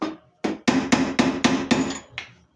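A hammer taps a ring off a steel mandrel from the far side: one soft lead-in knock, then six sharp metallic strikes at a steady pace, each with a short ringing tail, and a final lighter tap.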